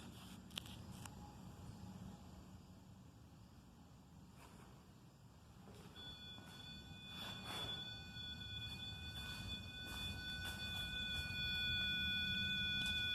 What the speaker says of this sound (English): Sounds like a train off in the distance.